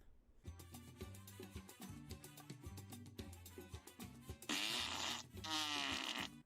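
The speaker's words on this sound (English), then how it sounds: "The farts are the loudest thing you'll ever hear" Cartoonish fart sound effects from a Kickstarter video game trailer blare over busy mariachi music, ending in a long, raspy, buzzing burst that swells above the band.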